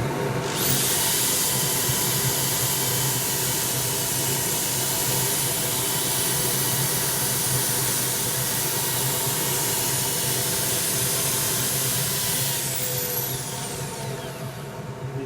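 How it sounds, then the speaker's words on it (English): A wood lathe spins an ironbark pot turned from sawmill waste while a wire is held against it to burn lines, producing a steady loud whirring hiss that runs unbroken and eases slightly at the end. "I'm going to change to the wire. And so I'm just going to run it very slowly out of the lathe."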